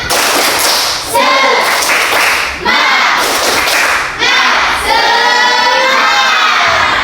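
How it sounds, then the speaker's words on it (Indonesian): A group claps in a quick shared rhythm, breaking into loud cheering and shouting, with a few short pauses between bursts. "kita tepuk semangat 1 kali lagi"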